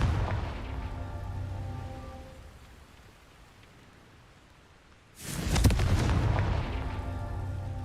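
A fiery Confringo spell explosion in the game Hogwarts Legacy, a sudden loud burst that erupts after a quieter stretch and rumbles on, following an earlier fading roar.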